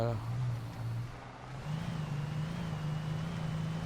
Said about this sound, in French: Je suis à fond sur l'accélérateur.